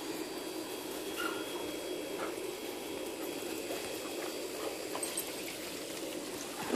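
A puppy and dogs romp and play at a pet daycare, with faint scattered yips and barks buried in steady splashing pool water and outdoor noise.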